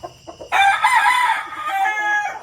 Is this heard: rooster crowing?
yes